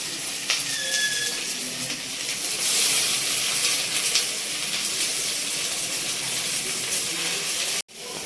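Malabar spinach (pui shak) sizzles and hisses loudly after landing in a hot pan, a steady broadband frying noise running throughout and cut off briefly near the end.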